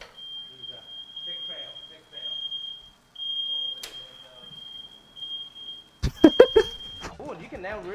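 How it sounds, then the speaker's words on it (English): A smoke alarm sounds a continuous high-pitched tone while egg fried rice is stir-fried in a wok over high heat, with people talking throughout and a burst of clattering and louder voices near the end. "The fire alarm."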